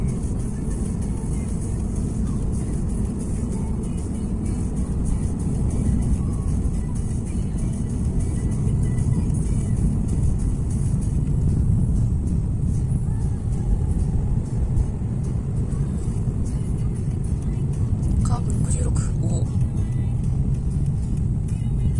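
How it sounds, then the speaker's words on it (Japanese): Cabin sound of a Toyota GR86 descending the mountain roads of Mount Akagi under engine braking: a steady low engine drone and road rumble held at an even level throughout, with faint brief sounds near the end. "エンジンブレーキ併用。"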